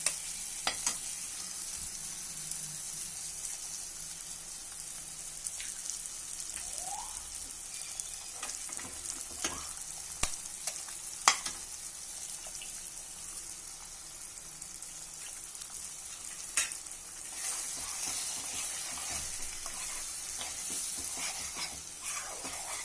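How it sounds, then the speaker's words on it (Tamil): Ridge gourd and egg fry stirred in a pan, a continuous close sizzle with occasional scraping clicks from the spatula, steady and alone without talk. "முட்டை உடச்சி ஊற்றி நல்லா கிளறிட்டோம்"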